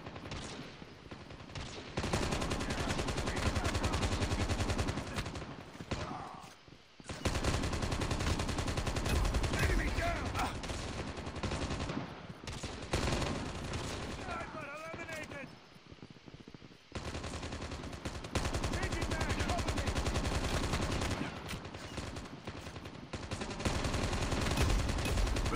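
Long sustained bursts of automatic gunfire in Call of Duty Mobile, loud and dense, broken by a few brief gaps, with occasional speech beneath the shooting.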